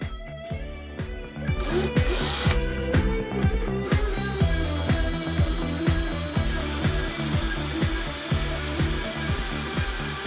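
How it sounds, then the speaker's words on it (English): A power drill whirs in repeated bursts, revving up and down with grinding as the bit bites into a resin light shade, close and loud. "I'm going to take my drill. I'm going to drill a hole in it."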